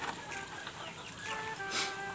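Chickens on a farm cluck and chatter steadily at feeding time, a close, busy flock with overlapping calls and one louder burst near the end.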